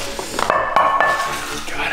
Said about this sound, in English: now we're moving on to something even bigger that we have to bend, a frying pan.